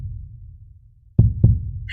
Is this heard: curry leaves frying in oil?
no